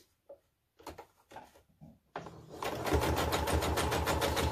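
A sewing machine stitching a 2.5-inch square onto quilt pieces along a 1/4-inch seam, a few short clicks and handling sounds before the motor starts into a steady, fast rhythmic whirring hum.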